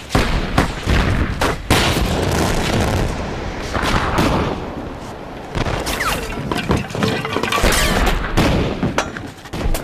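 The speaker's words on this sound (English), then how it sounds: "Firing a muzzle-loading cannon was a complicated business under normal circumstances." A dramatized battle with muzzle-loading cannon fire: repeated loud booms and thuds crowd together with crashing impacts and dense, chaotic gunfire, close and continuous throughout.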